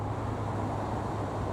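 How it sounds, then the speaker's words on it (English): Distant road traffic carries over a canal towpath beside the Leeds Liverpool Canal near Five Rise Locks, a continuous low rumble and hiss with no distinct passing vehicles, steady and unbroken. "you can hear traffic behind us"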